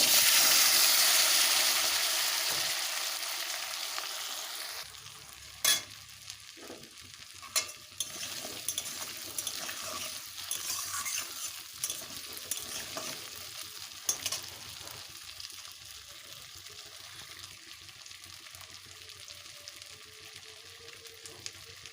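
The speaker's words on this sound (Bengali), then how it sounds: "টুকরো করে আলুটাকে ভেজে নেব" Potato pieces frying in hot oil, the same oil used for fish roe, give a loud broadband sizzle that fades after the first few seconds into a quieter steady crackle, broken by scattered pops and stirring clinks.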